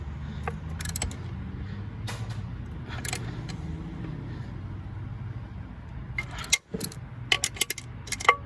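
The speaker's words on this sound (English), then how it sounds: "always final, hand tight with the ratchet" A ratchet tightens the flywheel bolts on a 1994 Ford Ranger in a workshop, giving scattered short metallic clicks and clacks. A quick cluster of clicks comes near the end over a low background rumble.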